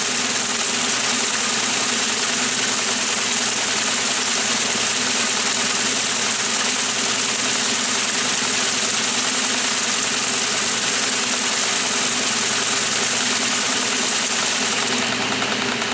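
A 1996 Maytag Dependable Care Plus washing machine runs its regular cycle, giving off a steady, loud mechanical hum and rumble with constant vibration from start to finish and no voices.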